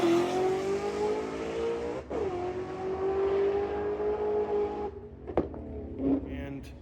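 A race car engine with a synchronized diaphragm clutch revs hard and climbs quickly through first to fourth gear, each shift cutting the roar briefly, with some tire noise near the end.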